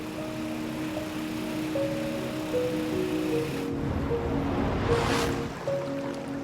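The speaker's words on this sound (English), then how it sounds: "careful not to get caught in the rushing currents beneath them" Rushing water at Lippy Falls on the Mekong roars in a steady broadband wash, with a faint engine-like hum in the first half and a surging swell near the end.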